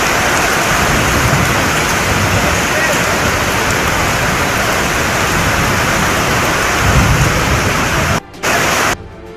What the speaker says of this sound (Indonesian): Hingga malam tiba, hujan badai terus terjadi.